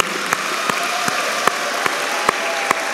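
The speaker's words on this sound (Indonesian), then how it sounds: "Tepuk tangan ya" An audience applauds an alumnus at a Lirboyo sharing session with steady, dense clapping. The clapping stays loud throughout with a few sharper peaks and no speech over it.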